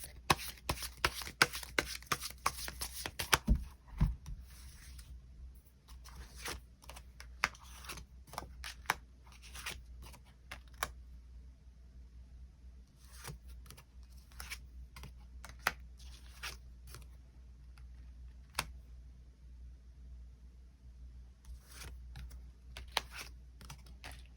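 Tarot cards shuffled and drawn from a deck on a table, producing bursts of crisp riffling followed by scattered light flicks and taps of cards, close and quiet with pauses between.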